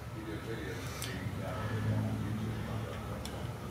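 A 1969 Chevrolet Camaro with a 454 big-block V8, MSD ignition, Edelbrock Performer intake and 750 double-pumper carburetor idles with a steady low rumble close by, beneath someone talking.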